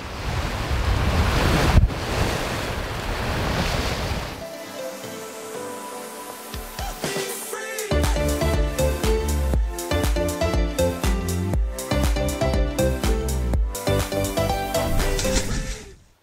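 Ocean waves and gusting wind on a sailboat crossing from San Andres toward Bocas del Toro, a loud steady wash of surf with heavy wind buffeting the microphone and no voices.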